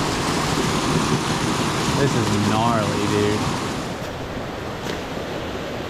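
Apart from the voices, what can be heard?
waterfall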